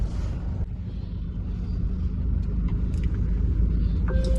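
Steady low rumble of a car being driven on the way to a mall, heard from inside the cabin, continuous road and engine noise with a few faint clicks and no talk.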